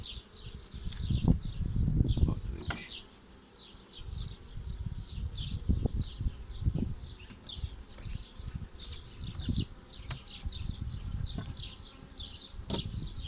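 Honey bees buzzing around a hive while a split colony with an old queen is worked, a continuous close insect hum with swelling and fading wingbeat tones and occasional louder passes, no speech.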